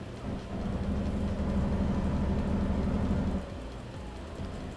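Steady heavy rain and thunderstorm rumble from the video game American Truck Simulator, a dense continuous wash that drops off slightly near the end, with no talking.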